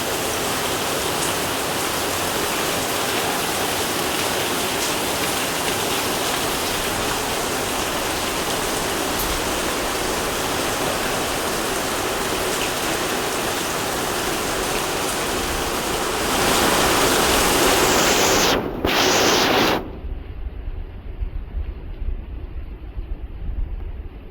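Steady, dense rain falls in a continuous hiss that swells slightly louder toward the end before cutting off abruptly, leaving quieter background noise.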